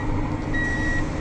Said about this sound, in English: Yes, you can stop beeping at me.